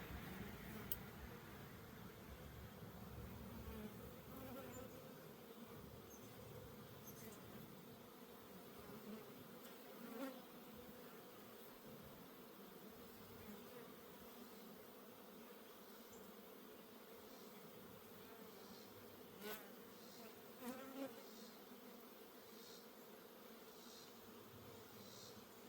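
A dense, steady hum of many honeybees buzzing close by around a hive sitting almost on the ground, faint and continuous, with a few individual bees droning past now and then.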